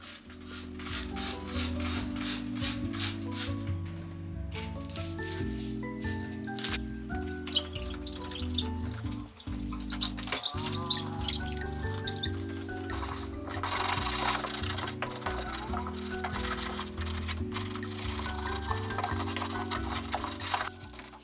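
Household cleaning as a surface is rubbed and wiped, close rhythmic scrubbing strokes running throughout, layered over steady background music.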